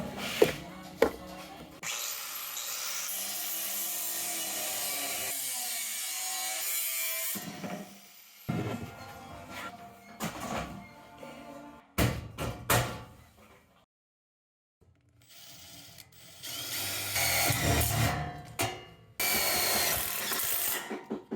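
Power tool cutting 16 gauge steel C channel to length in a basement workshop, long loud grinding runs that stop, pause in near silence, then start again.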